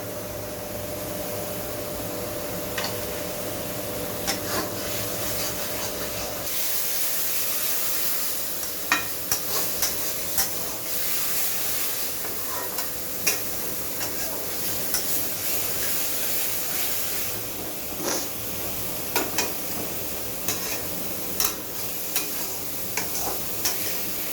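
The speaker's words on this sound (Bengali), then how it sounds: "এখন মশলাগুলো আমি ভেজে দেবো।" Spices frying in a pan with poppy seed paste for potol posto, a continuous sizzle with frequent scraping and stirring clicks from the utensil, steady and close, with no talking.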